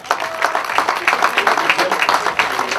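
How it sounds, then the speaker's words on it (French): At a race prize ceremony in Josselin/Cruguel, an audience applauds a runner, with loud, steady, close clapping from a crowd that carries on throughout. "Avec vos applaudissements maintenant pour Antonin Coga."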